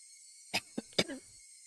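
Two sharp, close coughs with a smaller catch between them, followed by a brief throaty sound, against a faint background hum.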